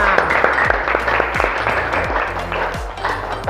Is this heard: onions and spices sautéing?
no